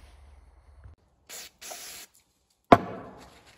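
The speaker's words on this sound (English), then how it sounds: "Carb cleaner for everything." Carburetor cleaner sprayed onto the carb of a 1979 Ski-doo Everest snowmobile: two short hissing bursts, then a sharp hard spray that tails off into a fading hiss, fairly close.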